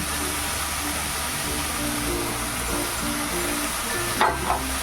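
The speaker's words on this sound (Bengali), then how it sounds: "শাকগুলো বেগুনের সাথে আলু বেগুনের সাথে ভালো করে ভাজা হবে" Greens frying in a pan along with potato and eggplant, giving a continuous soft sizzle with a couple of brief stirring scrapes near the end.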